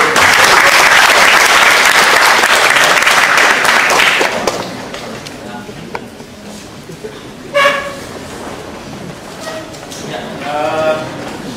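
An audience at a leadership forum in Bandung applauds to welcome a speaker: dense, loud clapping for about four seconds that quickly fades, followed by scattered voices and talk.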